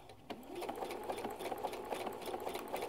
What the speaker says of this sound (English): And then I'm just going to carefully start sewing,